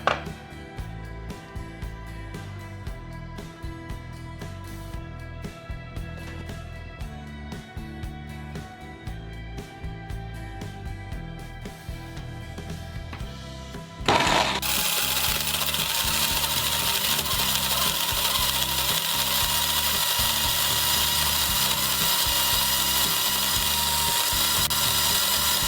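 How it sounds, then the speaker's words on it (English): A blender whirs steadily through almond milk, flax seed and other smoothie ingredients, then jumps to a louder, higher-speed roar partway through and holds it to the end. "I'm just going to be throwing all this in the blender and get blending"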